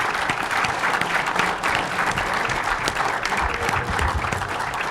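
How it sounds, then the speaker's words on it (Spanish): An audience at a public forum on security in Tijuana, Baja California, breaks into loud, sustained applause with a steady, dense texture throughout. "pido un fuerte aplauso para"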